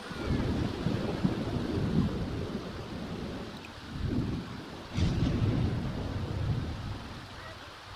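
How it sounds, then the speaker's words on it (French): Rolling thunder and steady rain from a thunderstorm in The Sims 4, a continuous low rumble with louder swells near the start, middle and around five seconds, heavy and close throughout. "c'est pratique les orages"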